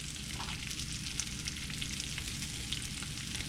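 Salami frying and crisping in a pot, a steady dense sizzle with tiny pops throughout, close and constant.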